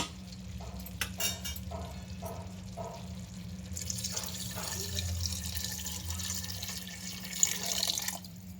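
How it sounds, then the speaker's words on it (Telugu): Tamarind water is poured into a pot of simmering sambar with onion, drumstick and bottle gourd, giving a soft liquid splashing and trickling over a low steady hum, with no talking. "ఇప్పుడు చింతపండు నీళ్ళు పోసుకుందాం"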